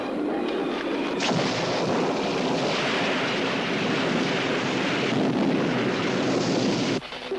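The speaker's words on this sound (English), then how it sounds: "It was a violent summer storm." A thunderstorm effect for a radio drama plays as a loud, continuous rumbling roar of thunder and heavy storm noise lasting several seconds, then cuts off abruptly near the end.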